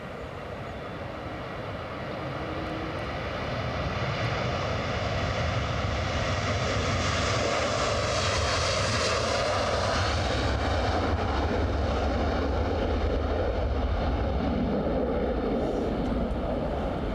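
A fixed-wing airliner taxis fast at Edinburgh Airport, its engines a loud broad steady roar that swells over the first few seconds and holds, with a rising whine peaking midway.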